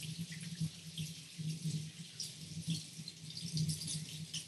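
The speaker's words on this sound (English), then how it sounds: "I'm just going to step to the side and wash my hands really quickly with some soap." Hands are washed with soap under a running kitchen tap while a chicken is prepared for roasting, giving a soft, steady stream of water splashing and dripping into the sink with small fluctuations, fairly quiet and close.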